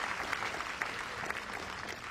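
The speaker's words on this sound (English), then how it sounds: "huge amounts of applause ring around the court here" Sustained applause from spectators around a tennis court at the Benoit Paire versus Liam Broady match, an even roar of many hands with a few sharper claps standing out.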